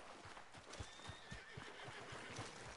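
Horse in Red Dead Redemption 2 giving a soft whinny amid a quiet game soundscape, with faint clip-clop hoof thuds in a loose rhythm underneath.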